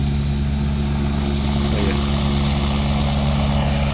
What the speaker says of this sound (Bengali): উঠছে এবার হেলিকপ্টারটা